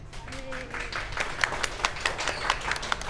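Scattered, uneven clapping from a small crowd at a marriage-equality wedding celebration, with a few sharper claps standing out over low background voices.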